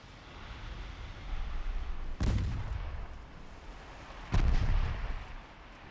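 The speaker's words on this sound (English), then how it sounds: "I think my guns are getting the job done." Warship guns fire in the naval strategy game Ultimate Admiral: Dreadnoughts, giving two heavy booming shots a couple of seconds apart, each rolling off into a low rumble over steady ambient noise.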